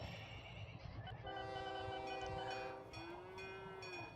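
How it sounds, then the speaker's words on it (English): A train in a video game rumbles along while its horn sounds two sustained tonal blasts, the second sliding slightly in pitch, over a steady low rolling background. "Come on, little train, you can do it."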